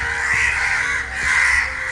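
A crow caws loudly and close, two long harsh calls in a row with a brief dip between them, alone with no talk.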